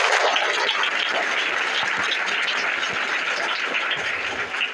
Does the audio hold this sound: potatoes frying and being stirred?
no